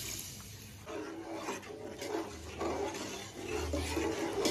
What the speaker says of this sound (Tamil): கிரேவிக்கு தேவையான தண்ணி ஊற்றிடலாம்